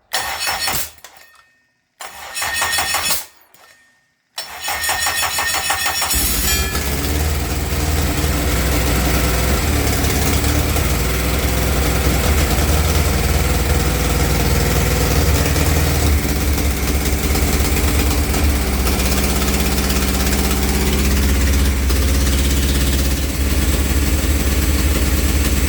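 A Honda K24 engine in a home-built car, run on a Haltech S2 ECU, cranks over in a few short bursts and then catches, settling into a loud, steady idle that runs close by until the end.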